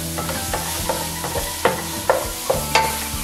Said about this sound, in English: I'm basically gonna brown my sausage right here in this roux